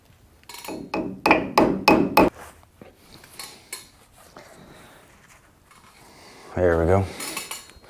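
A brake cap gets tapped onto the front hub of a 1978 Pontiac Trans Am during a disc brake upgrade, a burst of six or seven sharp metallic knocks, followed by scattered clinks and a brief voice.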